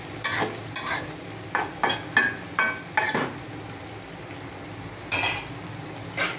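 A spoon stirring dried fish curry in a pan on the stove, about eight sharp scraping clanks in quick bursts, then a pause and one more stroke, close over a low sizzle.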